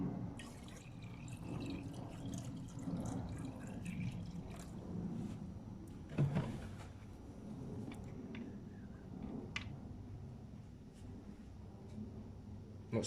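Quiet trickle and gurgle of water being poured into a Peugeot 406 2.2 HDi coolant tank, with faint clinks and a soft knock midway.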